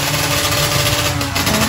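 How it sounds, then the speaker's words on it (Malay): A motorcycle engine running loud and steady at close range, a continuous buzzing drone with no pauses or speech over it. "Woi, motor ni bising lah."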